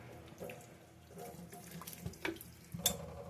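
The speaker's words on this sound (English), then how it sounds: "I just want to rinse it real quick with some fresh water." Tap water running over freshly made mozzarella curd in a kitchen sink, a soft steady splash with small drips and clinks, fairly quiet and close.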